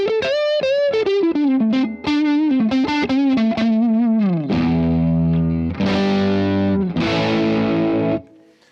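An electric guitar runs through a Strymon Iridium amp-and-cab pedal set to a Vox-style drive: a fast descending single-note run, then big distorted chords left ringing, loud and clean, with no talking.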